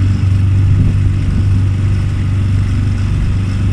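A boat moves under engine power, giving a loud, steady low motor hum that stays even from start to finish with no voices over it.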